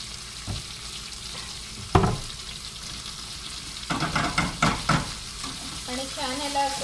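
Sliced onion with salt fries in a pan for a shellfish curry, a steady sizzle with clustered scraping and stirring strokes, a sharp knock near the start, and a faint voice-like tone toward the end.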